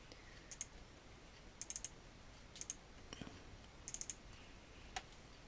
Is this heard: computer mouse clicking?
yes